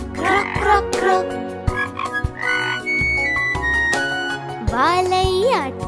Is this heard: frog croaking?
yes